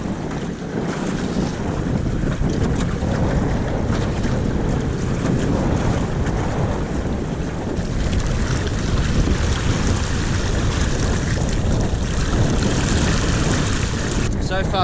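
A small boat driven by an ePropulsion Spirit 1.0 electric outboard motor crosses waves over half a metre high; loud, steady wind rush and splashing water fill the whole stretch, with no clear talk.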